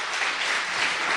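A church congregation claps together in steady, dense applause that fills the space evenly, loud and sustained with no voices rising above it.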